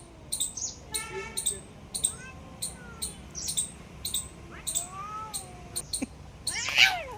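Cats yowl and wail in drawn-out, rising cries, broken by sharp scuffling bursts, close by and fairly loud.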